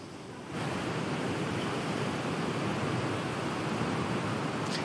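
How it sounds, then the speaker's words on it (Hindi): Rough sea waves 7 to 8 feet high crash onto Shirgaon beach in Palghar during Cyclone Biparjoy. After a brief quieter start, the surf becomes a steady, broad roar mixed with wind. "शिरगांव बीच का ये समुंदर देखिए, करीब 7 से 8 फुट ऊपर जो है इस वक्त समुंदर की लहरें आपको दिखाई देंगी"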